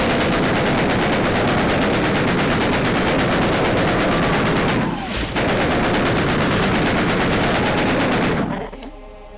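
Doom 3 gunfire roars continuously and very loud as rapid automatic shots hammer without pause for most of the stretch, briefly dipping midway, then cutting off near the end.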